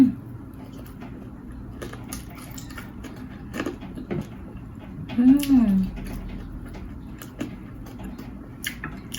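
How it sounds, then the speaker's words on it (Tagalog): A pet bird kept close by indoors, beside someone eating air-fried chicken, gives a short chirping call midway, with soft clicks and rustles before and after. "Pasensya na po sa maingay kasi may alagang ibon po ako dito sa gilid."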